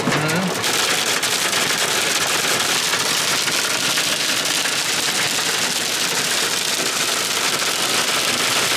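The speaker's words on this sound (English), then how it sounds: "Trapped in a car in a hailstorm." Hail pelting a car during a hailstorm in Colorado, heard from inside as a dense, loud, continuous patter and clatter on the roof and body, filling the whole stretch with no voices over it.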